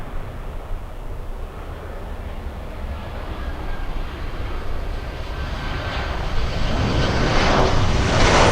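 Jet airliner landing at Miami International Airport on runway 9, a broad continuous engine roar that swells steadily louder as the plane nears, with no talking.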